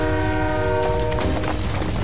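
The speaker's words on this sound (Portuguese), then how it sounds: "O terceiro trem acaba de sair." A train departs in an animated series, its horn sounding a loud, steady, sustained tone over rumbling wheels and rail clatter, with no voices.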